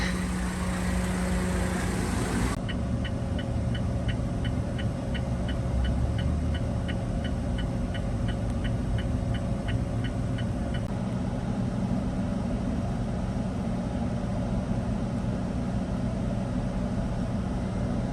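A car pulls away on a road in Japan with a steady engine and road rumble throughout. For several seconds a rapid, even ticking runs over it like a turn signal, and no one speaks.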